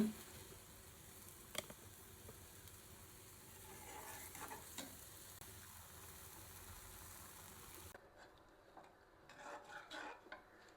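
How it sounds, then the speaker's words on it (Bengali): Raw onions fry in oil in a pan for a beef-milk korma, producing a soft, steady sizzle with a few scraping stirs and utensil knocks, fairly quiet and close, with no talking. "কাঁচা কাঁচা পেঁয়াজ একটু ভুনে নেই"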